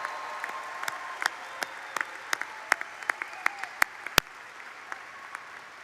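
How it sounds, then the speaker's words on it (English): Scattered, sparse clapping at a class of 2023 graduation ceremony, individual sharp claps rather than a full ovation, fairly distant in a large room. "join me in one more round of applause for all of the accomplishments of the amazing and talented graduates of the class of 2023"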